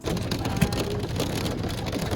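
Rain falls steadily outdoors during a video shoot outside Accra, a dense continuous patter of drops on surfaces with no voices.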